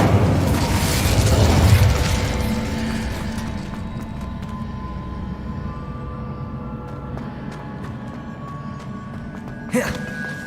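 Fire spell cast in Hogwarts Legacy: a whooshing burst of flame swells and roars in the first two seconds, then fades into a lingering crackle and rumble, with a sharp pop near the end.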